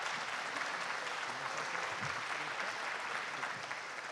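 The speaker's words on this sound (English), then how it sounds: "Let's give all of our candidates a round of applause" Audience at a candidates forum giving the candidates a round of applause, a dense, even wash of many hands clapping, steady and rather faint throughout.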